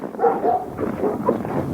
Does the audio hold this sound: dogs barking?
yes